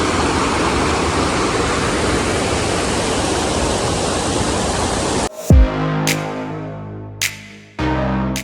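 Steady, loud broadband roar of the King Point waterfall at Mainpat, Chhattisgarh, filling the first five seconds before cutting off abruptly to quieter, unrelated sounds.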